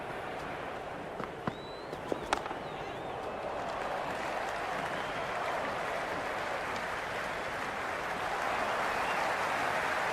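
A large stadium crowd in the cricket video game Cricket 26 keeps up a broad, steady roar and murmur, with a few sharp claps or knocks early on and the din holding even throughout.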